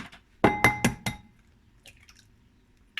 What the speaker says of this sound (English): I'm just going to crack the eggs into this little bowl